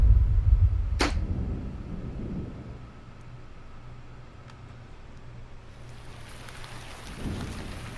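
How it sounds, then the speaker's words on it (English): A rain ambience track plays continuously: a sharp thunder crack opens it, then a low rumble fades under a steady, even hiss of falling rain that swells again near the end. "Rain with ambient microwave noises."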